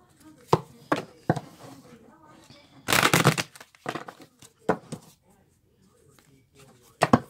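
Tarot cards are shuffled by hand in short, crisp bursts of riffling and tapping, with quiet pauses between them, close up in an otherwise quiet room.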